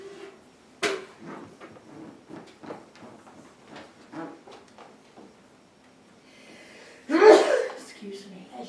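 A sharp sneeze bursts out loudly near the end, following a stretch of quiet talk among people at a bridge class, with voices resuming right after it.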